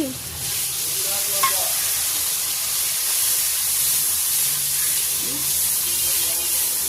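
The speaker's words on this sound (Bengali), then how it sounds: "এই যে একটু আদা রসুনের পেস্ট দিয়ে দিলাম আর টমেটো দিয়ে দিলাম, একটু কষিয়ে নিই।" Ginger garlic paste and tomato sauté in a pan, giving a steady, close sizzle with occasional stirring scrapes, while a voice faintly murmurs in the background early on.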